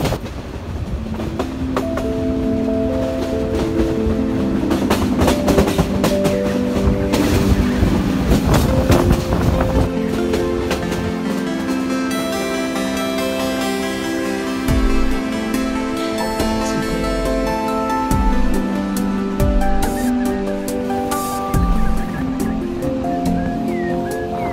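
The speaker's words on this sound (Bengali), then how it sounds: "এদিকে যাচ্ছে একটা ট্রেন" A passenger train running from Sylhet to Sreemangal gives a continuous loud rumble and rattling wheel clatter on the tracks, heard up close from on board throughout.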